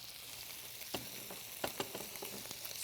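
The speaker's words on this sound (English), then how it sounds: "I'm going to add my onions. With a little bit of oil, teaspoon or so." Onions frying in about a teaspoon of oil in a pan give a steady close sizzle, broken by a few short clinks and scrapes of stirring, with no talking.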